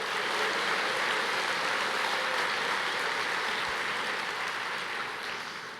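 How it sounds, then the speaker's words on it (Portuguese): Congregation applauding in a church, a steady dense wash of clapping that holds evenly throughout and tapers slightly at the end, with no voices over it. "Você pode aplaudir o Senhor?"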